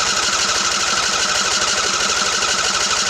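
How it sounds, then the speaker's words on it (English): The engine of a Craftsman LT1000 20hp riding mower with a 42-inch deck turns over on the starter, a loud, steady rapid churning that never catches and runs unbroken for a few seconds. "I'm gonna give her a crank, because it's got a fuel pump."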